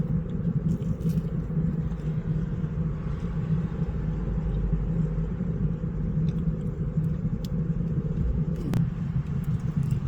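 A car driving along a road, with a steady low engine and road rumble that holds at an even level throughout, and no voices.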